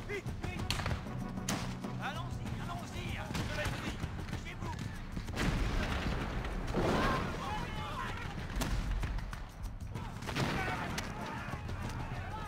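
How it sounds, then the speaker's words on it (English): French artillery pounds a British fort in a war reenactment, loud heavy booms and fusillades rolling almost continuously, with shouted voices mixed into the din. "The French artillery proves devastating."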